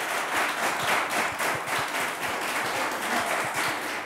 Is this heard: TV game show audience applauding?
yes